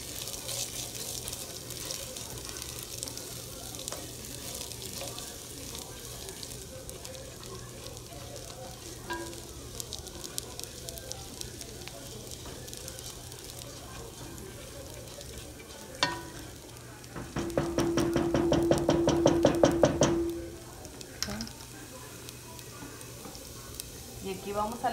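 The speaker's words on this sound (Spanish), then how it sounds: "Vamos a menear para que no se nos pegue y se vaya dorando." Rice for Mexican-style red rice fries and browns in a pan with a constant sizzle and occasional stirring scrapes, interrupted by a few seconds of running tap water.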